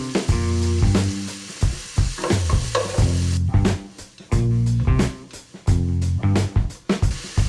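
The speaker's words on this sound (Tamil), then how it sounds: "வெங்காயம் நல்லா வதங்கட்டும்." Onions sauté with salt in a pan for green peas kurma, with loud, close, rhythmic stirring and scraping bursts over a frying sizzle.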